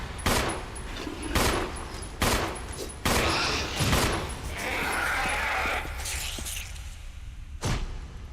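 Gunfire in Resident Evil 1, a series of loud, sharp shots fired in bursts roughly a second apart, followed by a final single shot, with no talking.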